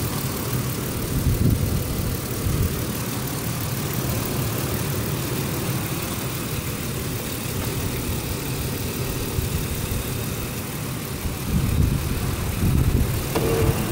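Engine of a 2005 Ford Explorer XLT 4x4 runs at idle, heard close as a steady low rumble with a faint mid-range whir, slightly swelling near the start and again toward the end, with no speech.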